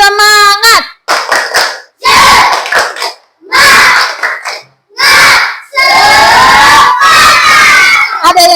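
A school class performs a rhythmic spirit clap in loud, separate bursts of clapping mixed with children shouting in unison, each burst cut off by short silences.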